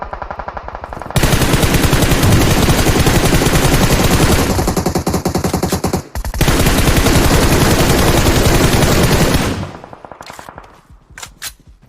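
Gunfire in a video game: long bursts of rapid, loud machine-gun fire close by, broken by a brief gap, then cut off into a few scattered shots at the end.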